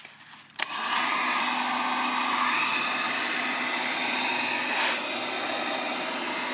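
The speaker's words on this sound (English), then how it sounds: "I'm going to go ahead and use this heat gun" Heat gun blowing hot air onto the inside of a dented vehicle bumper, clicking on and then running as a steady close rushing whoosh for several seconds.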